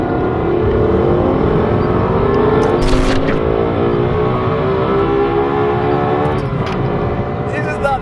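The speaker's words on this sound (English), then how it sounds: "I'll shut up for a bit and just listen to this." Lexus LFA V10 supercar engine revving, a loud, close, sustained howl that rises and falls in pitch, with a few brief sharper bursts over the engine note.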